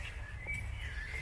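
Small birds chirp and tweet in an East German cemetery, a few thin high calls standing out faintly over a low rumble of background noise.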